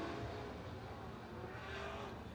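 Late model street stock race cars circling I-90 Speedway, a continuous distant, faint engine roar with a hint of tire noise and no clear pass-by peaks.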